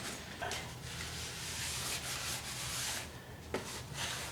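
A cloth wipes shipping oil off a new rear brake rotor for a 1990 Miata with Simple Green All-Purpose cleaner, a steady close rubbing swish with a couple of brief sharper scrapes.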